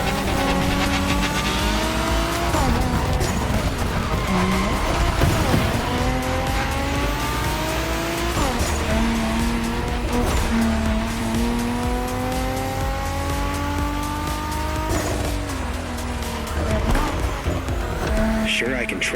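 Nissan GTR with a wild Bosozoku-style body kit racing in The Crew Motorfest: engine revving up and down through gear shifts with tire squeal, loud and continuous, with a voice speaking over it.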